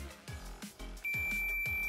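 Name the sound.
multimeter buzzer beep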